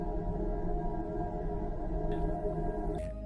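Uranus sounds made from electromagnetic signals recorded by Voyager and converted to audio, an eerie sustained hum of layered tones that drifts and warbles, with faint airy whooshes rising near the end.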